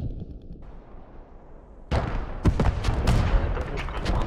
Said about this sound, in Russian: Это пушка, она слева стреляет.